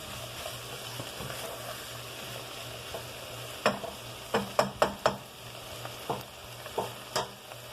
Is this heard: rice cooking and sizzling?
yes